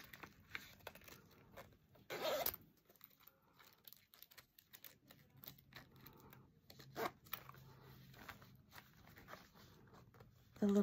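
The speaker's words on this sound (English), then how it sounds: "The little zipper here." Quiet zipper sliding back and forth close up, several short rasping pulls with soft handling rustle in between, no voices.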